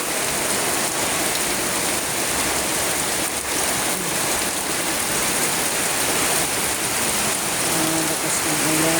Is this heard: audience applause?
no